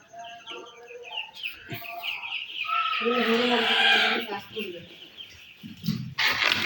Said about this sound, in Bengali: এই হচ্ছে আমার ফাউমি মুরগি।